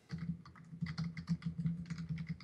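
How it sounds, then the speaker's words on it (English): Quick, uneven clicking of keys on a computer keyboard, close and moderately quiet, with a faint hum underneath. "The base of Jay Coper's keyboard"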